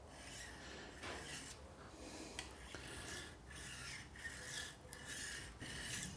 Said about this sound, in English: you hold it completely flat on the stone and sharpen it like so